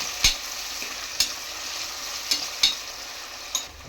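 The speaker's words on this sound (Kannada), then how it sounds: "ಟೊಮೆಟೊ ಹಾಕಿ ಕಲಿಸ್ಬೇಕು." Tomato is stirred into frying onions and masala for egg biryani, a soft continuous sizzle broken by about five sharp spoon knocks against the pan, spaced irregularly and with no voices.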